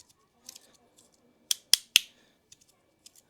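A Kuko X Ultra fidget slider gives a few sharp, close clicks, three crisp snaps in quick succession in the middle, with lighter ticks scattered around them in an otherwise quiet room.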